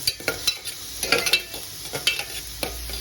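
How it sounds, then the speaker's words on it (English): Onions frying in oil in a pan on a cooker for a Goan red beef curry, a steady close sizzle broken by repeated scraping and stirring strokes. "here are these onions frying"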